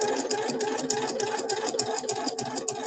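Sewing machine stitching straight down a bag strap: a fast, even mechanical chatter of needle strokes running continuously at close range, steady in level throughout.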